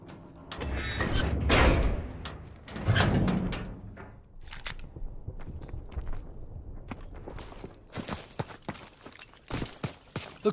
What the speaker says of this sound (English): Get the door.